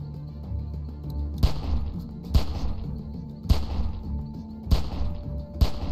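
Five spaced gunshots ring out in a Walking Dead video game shootout, each a sharp loud crack over a low rumbling backdrop, roughly one per second.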